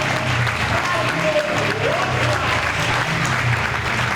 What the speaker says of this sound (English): they're giving Craig Cook a warm round of applause